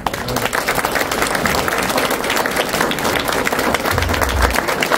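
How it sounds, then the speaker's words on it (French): At a mayor's New Year wishes ceremony in Nantouillet, a hall audience claps for the mayor in a steady, dense round of applause that holds even throughout at a moderate level. "Donc je vous demande de l'applaudir."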